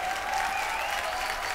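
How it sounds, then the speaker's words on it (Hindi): Studio audience applause on the set of a TV comedy show, a steady dense wash of clapping with a faint tone running through it, continuous for the whole stretch. "भाई मुकेश जी के लिए एक बार जोरदार ताली एवरीबॉडी"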